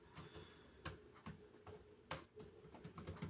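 Fingers tapping on a computer keyboard in irregular bursts of clicks with a few sharper keystrokes, close but quiet, with no voices.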